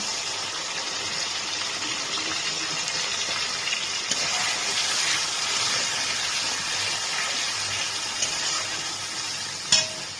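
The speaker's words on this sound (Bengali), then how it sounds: "কাঁচা লঙ্কাগুলোকে দিয়ে যেটা আমার মাছের তেলটা রয়েছে সেটা আমি এর মধ্যে দিয়ে দিচ্ছি" Green chillies fry in leftover fish oil in a pan, giving a steady close sizzle with faint stirring scrapes and a brief clatter near the end.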